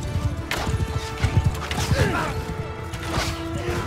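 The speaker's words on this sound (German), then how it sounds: "die ganzen Pferde, die uns entgegenkommen gerade" Horses gallop toward the player in the video game Mount & Blade II Bannerlord, a busy run of close hoofbeats and clatter with creaks and crashing battle noise.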